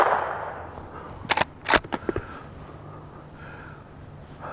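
Two sharp shots from a Henry Big Boy Classic .44 Magnum rifle at an outdoor range, a close crack followed by a second report and brief echo, with quiet outdoor background before and after.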